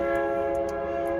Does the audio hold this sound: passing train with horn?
yes